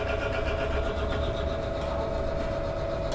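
A Yamaha NMAX scooter engine idles steadily while warming up, giving a constant close hum with a sustained tonal drone and no change in speed.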